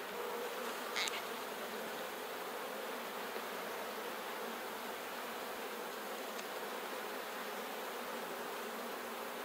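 Honey bees in a horizontal beehive make a dense, continuous buzz that stays close and even throughout, with an occasional louder pass nearby.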